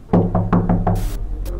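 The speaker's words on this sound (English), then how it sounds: "I knocked on the door." Five close, hollow knocks on a door in Amanda the Adventurer come in quick succession, followed by a short hiss of noise.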